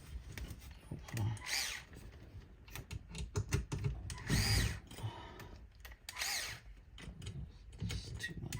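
A power drill drives a screw in short, uneven bursts of whirring mixed with clicks and handling noise. Someone can be heard speaking at times.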